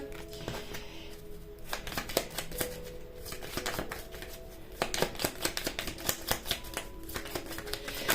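Tarot cards being shuffled by hand, a close run of quick flicking, riffling and tapping clicks that turns into denser rapid bursts in the second half, with no talk.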